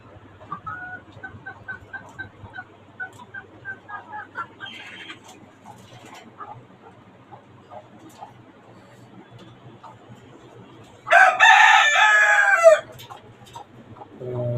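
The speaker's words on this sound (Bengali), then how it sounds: "ছোট্ট জায়গায়, অল্প জায়গায় আপনার খাঁচার মধ্যে মুরগি পালন করছি" Caged chickens on a five-storey rooftop farm in Dhaka give soft, repeated clucks, then a rooster lets out one loud, close crow near the end.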